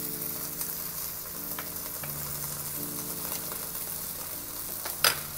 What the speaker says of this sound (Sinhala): මම ප්‍රෝන්ස් ටිකත් ඒ විදිහටම බැද ගන්නවා.